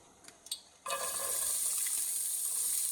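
Onions dropped into a pan of hot extra virgin oil, a few faint clinks followed by a sudden soft sizzle that settles into a steady, quiet frying hiss.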